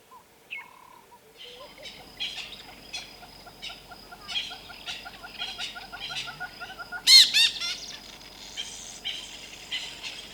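In Kruger National Park, a woodland kingfisher calls while mobbing an African harrier hawk: a run of repeated sharp notes in a steady rhythm, fairly near, over faint insect buzzing, with a louder burst near the end.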